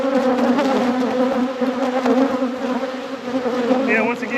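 Honeybees buzzing loudly and continuously during a post-winter deep inspection of a hive, a dense close-up hum that stays steady throughout without talk.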